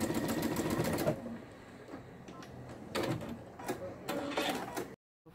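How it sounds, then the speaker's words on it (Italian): A sewing machine stitches a seam along the presser-foot edge with a rapid mechanical whir for a second, then several shorter bursts of stitching separated by pauses, fairly quiet and close. "Ho fatto questa cucitura e ho anche ribattuto e questa parte qui, idem."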